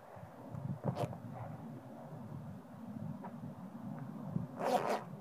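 A protective bee suit being zipped up for wasp nest removal, giving a sharp zip early on and a longer, louder zipping burst toward the end, close to the microphone against a quiet steady hiss.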